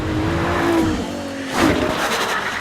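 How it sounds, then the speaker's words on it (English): A 2014 Ferrari LaFerrari driven hard along a mountain road, its engine note loud and close, holding a strained tone before swelling again with rising revs partway through. "So much fun to hustle this valuable, this powerful, this technological of a car along a mountain road"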